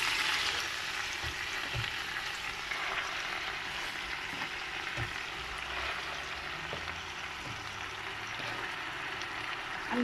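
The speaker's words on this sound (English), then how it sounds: "Now I'm just going to drop in the herbs." Herbs go into a pan where onion, tomato and red chili are frying, giving a steady, soft sizzle with faint crackles throughout and no talking.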